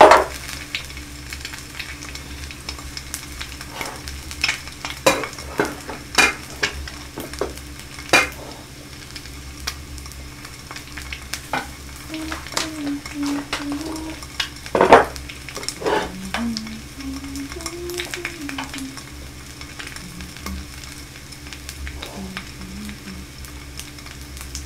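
An egg fries in a pan for kimchi fried rice, a quiet steady sizzle broken by sharp clinks of utensils and dishes, with faint music or hum in the background.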